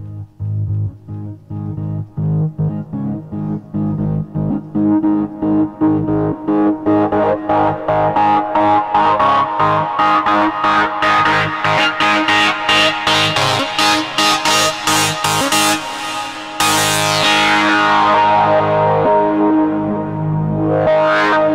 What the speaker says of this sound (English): this is a little synth that I've been working on for about, I don't know, 5 minutes, and it sounds pretty cool